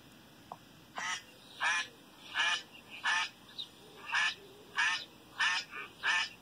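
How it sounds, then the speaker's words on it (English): A duck quacks in a regular series of about nine loud, nasal calls spaced roughly half a second apart, close by over quiet background. "That's a pretty duck."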